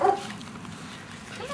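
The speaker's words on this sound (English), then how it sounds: "Nelson meeting Ziggy in black and Poppy, our red-haired dachshund." A red-haired dachshund and other dogs playing give a quick yip or whimper at the start, followed by a lower, muffled rumble of movement and a faint final yelp, all close by.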